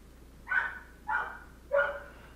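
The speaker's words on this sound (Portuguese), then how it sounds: "Mano, o Slash tá latindo demais, bicho." Three sharp, evenly spaced dog barks from a Resident Evil 4 video game, each loud and distinct, with quiet pauses between them and no voices.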